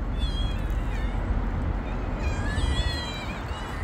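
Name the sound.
cats meowing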